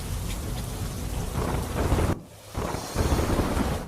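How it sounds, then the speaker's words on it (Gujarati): Heavy monsoon rain with thunder in Gujarat towns, a dense roaring downpour with low rumbles and gusty wind buffeting the microphone, briefly dipping before surging back. "ગાજવીજ સાથે ધોધમાર વરસાદ થયો"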